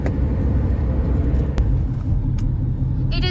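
Car interior on an Indian road trip through Vijayawada, with a steady low engine and road rumble at cruising speed and a few faint clicks and a brief rattle near the end.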